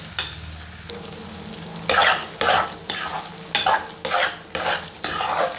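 Qeema karahi with tomatoes sizzles in a pan while a utensil stirs it in repeated bursts, loud scraping swishes every half second or so over a steady fry.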